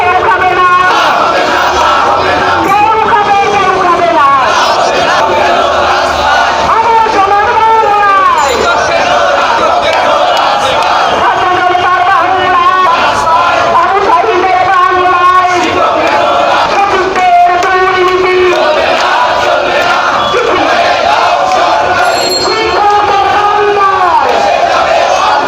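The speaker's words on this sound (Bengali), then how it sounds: "ইতিমধ্যে তাদের স্লোগান শুনছেন" A crowd of protesting private primary school teachers chants slogans in unison in front of the National Press Club in Dhaka. The chanting is loud and continuous, with many voices rising and falling in repeated rhythmic calls.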